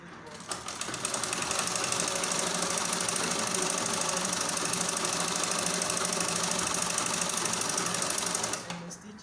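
A sewing machine stitching fabric for a butterfly gown runs in one continuous, rapid mechanical rattle for most of the span, starting and stopping abruptly, loud and close.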